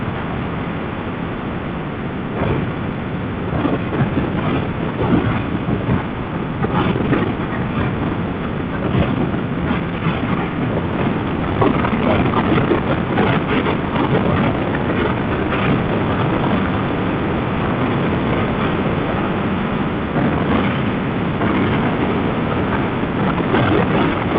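Steady, loud wind roar buffets the microphone throughout, a constant rushing noise while riding a 2019 Kawasaki Ninja 650 motorcycle at about 115 km/h.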